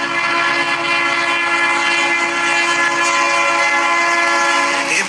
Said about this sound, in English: De imposante locomotieven met achter zich lange linten wagons rijden vaak naast de highways op met het vrachtverkeer.